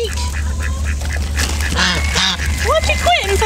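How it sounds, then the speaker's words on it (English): Geese honk repeatedly near a chicken coop being built, in loud, nasal calls that come in clusters over a steady low hum. "She's worried about those geese."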